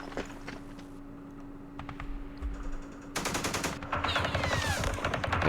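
Mortar and small-arms fire in the Vietnam wargame Campaign Series Vietnam, at Dien Bien Phu: bursts of rapid cracking shots and explosions, growing louder and denser toward the end, over a steady low hum with no talk.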